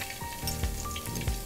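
Spoonful of garlic and ginger sizzling in hot oil in a pan, a steady frying hiss with a couple of soft stir scrapes, close and moderately loud, no talking.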